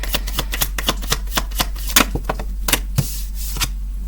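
A deck of tarot cards is handled and shuffled by hand, making rapid, irregular dry clicks and snaps close to the microphone over a low steady hum, with no talking.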